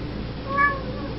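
A Burmese cat gives one clear, medium-loud meow over a steady background hum, with no talk.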